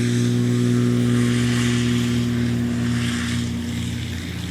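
A Maule light aircraft at a 2025 Swamp STOL competition gains speed and climbs out, its propeller engine producing a loud, steady, close droning hum that eases slightly toward the end.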